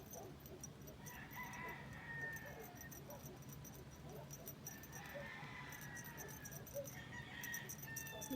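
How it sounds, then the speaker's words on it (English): Roosters crowing in the distance, several drawn-out calls rising and falling over a constant low background hum, faint and far away with no talking. "Listen to the roosters."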